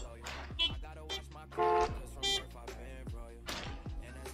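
Car horns honk in flat, steady blasts: a longer one and then a shorter one, mixed in with someone talking at close range.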